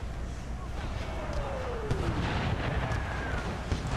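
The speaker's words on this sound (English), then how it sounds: "Our howitzers are holding back the remaining Confederates coming in." Howitzer artillery in a Napoleon: Total War American Civil War mod battle, distant booms and rumbling gunfire spread across a dense, noisy battlefield din, with someone talking over it.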